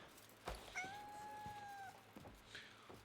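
A cat meows in the video game Crimson Desert, one clear drawn-out meow near and fairly quiet, with a short rustle before it and soft movement sounds after.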